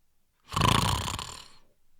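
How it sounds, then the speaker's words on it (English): A man fast asleep in an audience a couple of rows ahead lets out a single loud, drawn-out snore that swells and then fades, with silence before it. "a man, 2 rows in front, snoring, fast off asleep"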